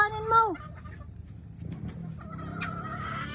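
Fighting chickens at a farm give a short, loud cluck and squawk near the start, then fainter clucks and calls continue over low outdoor rumble and background voices.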